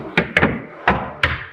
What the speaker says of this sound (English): the doors could completely slide in if we want